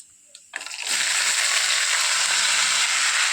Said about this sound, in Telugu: ఇప్పుడు మనం ఉడికించినటువంటి గోరు చిక్కులను తాలింపులో వేసుకోవాలి